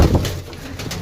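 Pigeons coo in a low, throaty burble that rises and falls across a second, close by in a loft of teddy pigeons offered for sale.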